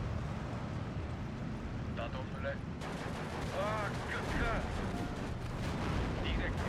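Gunfire rattles from a hill in the WWII strategy game Steel Division 2, with repeated shots over a constant low battle rumble and voices talking on top.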